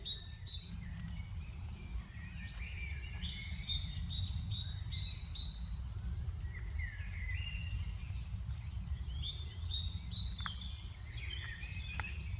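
Several birds sing and chirp continuously at a moderate distance in Oxfordshire, with a steady low background hum beneath the calls.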